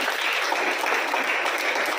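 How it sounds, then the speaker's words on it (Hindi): An audience applauds loudly at a club gathering honouring a newly appointed provincial secretary general, a dense continuous wash of clapping, close and sustained. "तो एक बार जोरदार तालियां बजती।"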